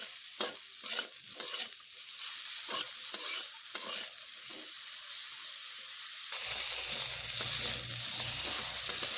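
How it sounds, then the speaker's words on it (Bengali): Pieces of pointed gourd seasoned with turmeric and salt frying in a pan, with repeated stirring scrapes and clatter over a soft sizzle, then a louder, steadier hiss toward the end. "ভেজে নেব পটলগুলোকে।"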